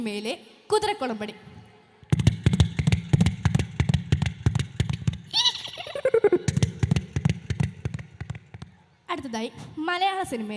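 A voice imitating horse hoofbeats as heard in an English film, performed by a mimicry artist at a school annual day: rapid trains of sharp clicks in galloping bursts, broken by vocal whinny-like cries and pauses.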